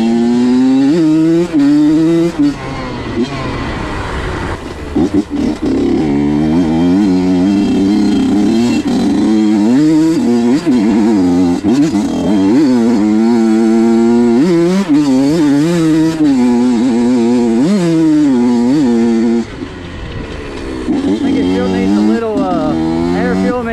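A Honda CR85 two-stroke dirt bike engine wails and revs while being ridden, its pitch climbing and dropping in repeated surges as throttle is opened and eased, loud and close throughout.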